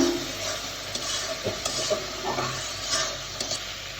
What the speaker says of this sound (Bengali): আমি সুন্দর করে আবার কষিয়ে নিলাম